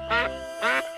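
Two nasal, close-up duck quacks about half a second apart, voiced by a person imitating a duck.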